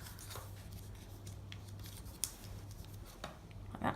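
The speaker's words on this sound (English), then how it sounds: "Another triangle fold" Paper is folded and creased for an origami star, giving soft rustles and scrapes with one sharper crinkle over a low steady hum, close and fairly quiet.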